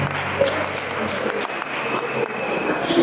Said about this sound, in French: On l'applaudit comme même, on l'applaudit.